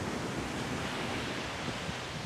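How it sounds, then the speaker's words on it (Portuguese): Ocean surf at a Florida beach, a steady dense wash of breaking waves with wind rushing across the microphone, loud and continuous with no voices. "a gente tá aqui na praia"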